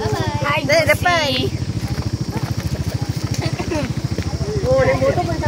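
A motorbike rides indoors among a crowd at Bukit Bertangga, its low engine putter running steadily beneath loud, close chatter from several people.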